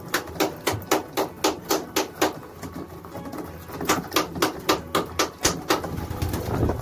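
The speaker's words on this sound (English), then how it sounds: "Clapping's easy, you can always do it" Sharp hand claps calling pigeons to a feeder, two fast rhythmic bursts of about a dozen claps each, close and loud, with faint bird sounds between.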